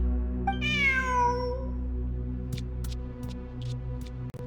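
A single drawn-out cat meow from the game Genshin Impact, clear and close, followed by a few soft clicks and taps over a steady low background hum.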